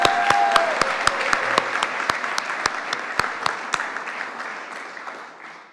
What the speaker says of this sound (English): another round of applause for all of our award recipients tonight.